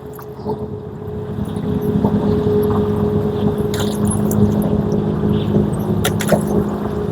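Small two-seat speedboat racing across the water in Norway, a steady droning engine roar heard from the shore, with light wind noise throughout.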